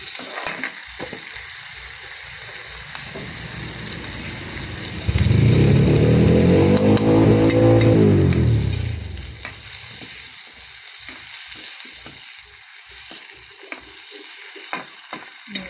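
Noodles frying in chicken oil in a pan, a quieter sizzle with stirring clicks that swells into a loud, dense burst of frying for a few seconds, then settles back to light sizzling and scraping.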